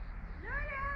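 A single close cat meow, rising and drawn out over low background noise.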